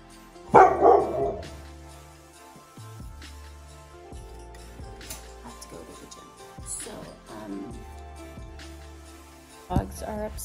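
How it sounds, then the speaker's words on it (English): A Doberman barks in a short loud burst near the start, then quieter background sounds follow, with one more sharp sound near the end. "Dogs are upset because I'm leaving, because mom is leaving."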